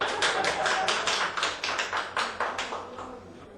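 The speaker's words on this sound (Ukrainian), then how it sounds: "Оплесками лікарі зустрічають першу прооперовану пацієнтку" Doctors in a Kyiv hospital clap together to welcome their first operated patient, a 92-year-old woman: a steady run of sharp, close hand claps at about four per second that fade slightly toward the end.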